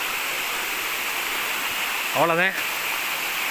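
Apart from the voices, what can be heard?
waterfall water flowing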